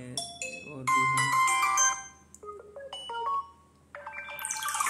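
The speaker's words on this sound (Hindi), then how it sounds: "यहाँ से आपको देख रहा होगा डिफरेंट डिफरेंट टाइप के जो आपको रिंगटोन दी जा रही है" Several ringtone previews play in turn on a Vivo V25 5G phone, each a bright melodic tone sequence that stops and gives way to the next, loud and close with short pauses between them.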